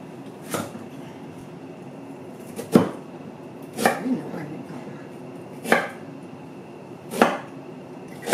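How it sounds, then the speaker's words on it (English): A cleaver chops a 2-inch piece of peeled ginger finely on a cutting board: sharp, spaced single knocks, about six over the stretch, close and distinct, with no talking. "It's a 2-inch piece of ginger, chopped finely."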